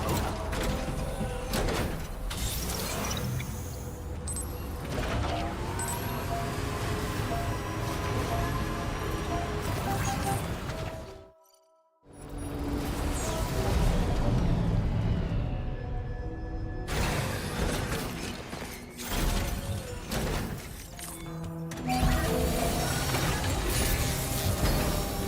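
A vehicle being repaired in Death Stranding 2 produces dense mechanical clanks, ratcheting, creaks and gear-like whirs. The sound is loud and busy, broken by one brief silent gap partway through.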